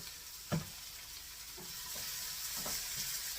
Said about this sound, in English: So I'm going to fry those onions up.